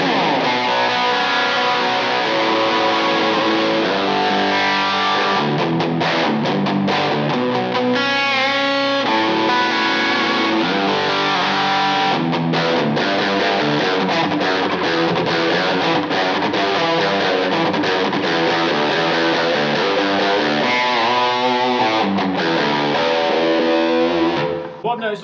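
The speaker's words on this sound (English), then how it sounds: "We're going to start with some distortion tones. I'm going to be using the magnetic pickups on the bridge position." Heavily distorted electric guitar tone from a Music Man Majesty on the magnetic bridge pickups through a Kemper Profiler, a dense continuous riff with chugging chords and fast runs, loud and steady throughout.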